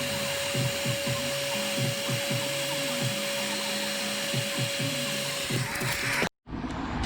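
A heat gun heats a solder connection on a resistor pack bypass for a 1991 Audi 90 20v quattro sport. A loud, steady whooshing roar with a low pulsing undertone runs close by, then cuts off abruptly near the end.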